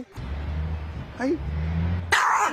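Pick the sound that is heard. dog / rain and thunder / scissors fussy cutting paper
dog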